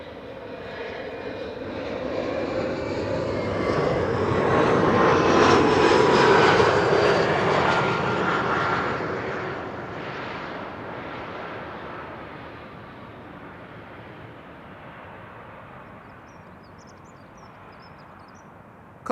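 A KLM Embraer 175 airliner on approach into Amsterdam Schiphol Airport, its engine roar swelling as it passes nearby, peaking midway, then fading slowly into a distant rumble.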